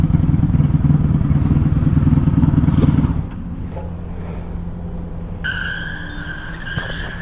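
A Honda Magna motorcycle moves through traffic, its loud engine roar dropping off after a few seconds to a quieter idle-like hum, with a higher whine from nearby traffic appearing toward the end.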